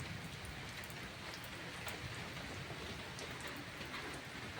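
Steady rain falls during a monsoon downpour, a soft, continuous broadband hiss of drops without pauses, fairly faint and distant, with no voices.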